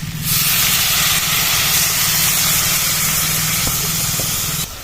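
A little water hits a hot pan of sattu chatpati and sets off a loud, even hiss of steam. It bursts in at once, holds steady for several seconds and then cuts off.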